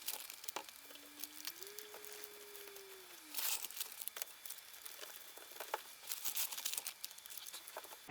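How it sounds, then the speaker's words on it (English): Metal foil tape is peeled and pressed around a duct fitting during a grow tent install, producing faint, close crinkling and tearing rustles, with a brief thin whistling tone early on. "you want to get the metal tape and you want to tape all the way around it"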